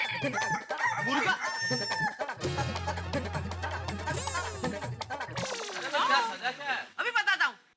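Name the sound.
person imitating a rooster crowing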